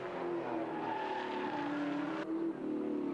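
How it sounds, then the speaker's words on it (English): Touring car engine at Bathurst screaming high in the rev range through a lap, a continuous loud, near racing-engine wail with shifting pitch and a brief dip near the end. "The rev range, the tachometer really working here as he shaves the wall."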